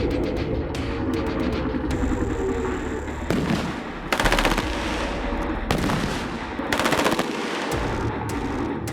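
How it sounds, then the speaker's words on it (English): A GPMG machine gun fires overhead in a military training simulator, with loud, rapid bursts of gunfire rattling repeatedly over a constant background of other shots and noise. "when you're in the simulator, can you do it with a GPMG firing overhead?"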